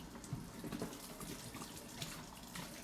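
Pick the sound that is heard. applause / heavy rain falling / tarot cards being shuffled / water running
water running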